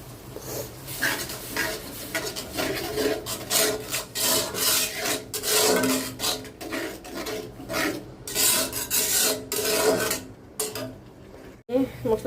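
A spatula rasps and scrapes rhythmically against a pan as spice paste with a little water is sautéed and stirred for a fish curry, in repeated strokes with brief pauses.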